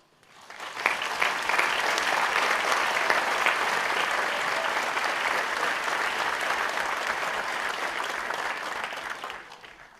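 Commencement audience at Vermont Technical College applauding to welcome speaker Zeb Scoville, a sustained, even wash of clapping that rises quickly, holds for about eight seconds, then tapers off.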